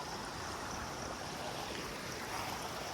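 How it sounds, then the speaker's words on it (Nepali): A mountain stream flows with a constant, dense rush of water, steady and enveloping from start to finish without pauses or voices. "पहाडको खोलामा छौँ"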